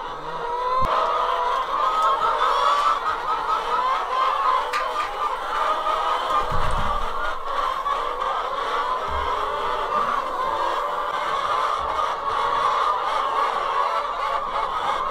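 Chickens cluck and fuss in a coop during morning farm chores, a steady busy flock texture throughout with occasional low thumps of handling and movement nearby.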